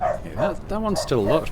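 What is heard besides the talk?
dog barking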